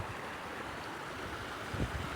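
Broadband water rush of a flowing river heard from a bicycle ridden along its bank at an easy pace on the way to a remote village, steady and continuous with a few low thumps near the end.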